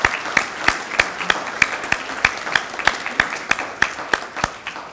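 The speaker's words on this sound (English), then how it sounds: "can we offer those families a nice round of applause?" Rhythmic clapping from an audience, individual claps distinct and evenly spaced, fairly loud and close, sustained throughout.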